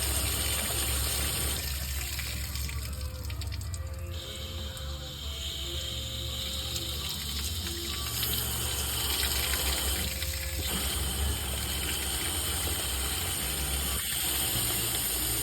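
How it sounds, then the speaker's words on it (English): Water from a garden hose pours steadily through the heater core of a 1994 Ford Ranger during a flush, a continuous rushing gush with no speech over it. "take the hose, run water through it, watch the other hose"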